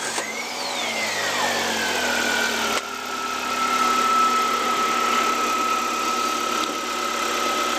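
A Massimo 1100cc UTV with a Chery dual overhead cam 16-valve inline-four starts with a brief cranking sweep, then settles into a steady, close, loud idle hum with no talk.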